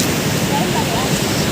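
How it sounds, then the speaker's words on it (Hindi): Fast rushing river water at Qadirabad barrage on the Chenab, a dense steady roar filling the whole clip, loud and close. "माशाल्लाह कितनी स्पीड है पानी की और शोर कितना है पानी का"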